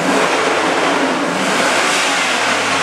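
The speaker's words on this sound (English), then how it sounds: "I'm going to give her a couple revs," A 2002 Chevy Silverado's 5.3L LM7 V8 revs hard and steadily, a loud continuous roar held for a few seconds with no voices.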